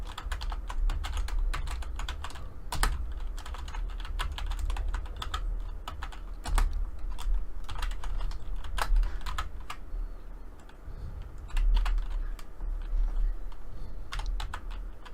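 A computer keyboard typing a title into an MS Word document, with steady close key clicks and occasional louder keystrokes going on throughout, no talking.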